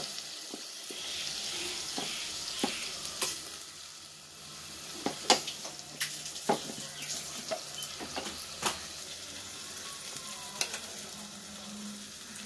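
Chopped onions fry in a pan with coarse salt, a soft steady sizzle broken by repeated scraping stirs of the spoon, moderately close and with no one talking.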